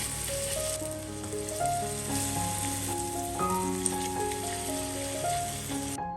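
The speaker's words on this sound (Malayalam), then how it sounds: "ഞാനിതാ ഒരു പാനിലോട്ട് അല്പം വെളിച്ചെണ്ണ ഒഴിച്ചിട്ടുണ്ട്. ജസ്റ്റ് ഒന്ന് ഷാലോ ഫ്രൈ ചെയ്തെടുക്കുകയാണ്" Banana slices shallow-fry in coconut oil in a pan, a soft continuous sizzle and crackle heard close up under a backdrop of tuneful background music.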